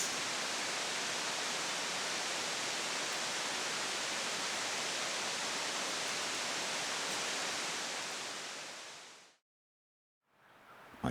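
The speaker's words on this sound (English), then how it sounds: "The water noise does a good job of drowning out all the people noise." Water rushes steadily over a lake spillway near an Arkansas campsite, a loud, even hiss that fills the scene, then cuts abruptly to near silence before faint sound returns at the end.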